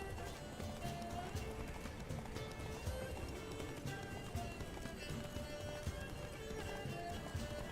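A horse gallops in the Witcher 3 video game, its fast clip-clop hoofbeats drumming steadily and continuously at close range beneath a dense, busy game soundscape.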